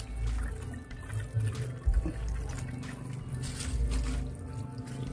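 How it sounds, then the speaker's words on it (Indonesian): Water poured onto soil around a freshly dug-up wild Javanese tamarind bonsai during the dry season, a steady close splashing and trickling with gurgling pulses, no talk. "Biar tanah menyatu kembali, kita siram air."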